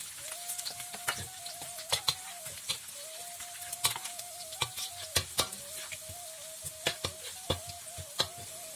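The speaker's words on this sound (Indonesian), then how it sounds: "Kita goreng sampai wangi minyak bawang merahnya, kemudian kita masukkan bawang putihnya." Shallots and garlic sizzle in hot oil, a steady crackling fry broken by sharp spatters and the scrape of stirring, heard close with no voices.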